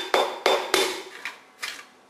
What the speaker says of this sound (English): And then you want to tap it into place. I use rubber mallets to hold it straight.